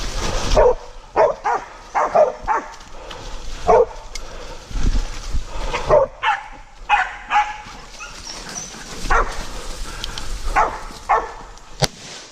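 Several dogs barking in loud, irregular bursts, close by, with short whimpers between barks and occasional human shouts.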